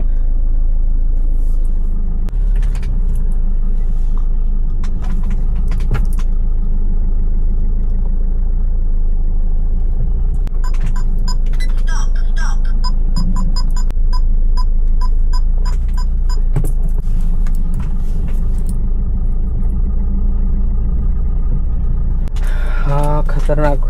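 Low rumbling car engine idling and creeping while a car is edged back and forth out of a tight parking spot near Baga Beach in Goa, with a person talking over it and brief clicks and beeps.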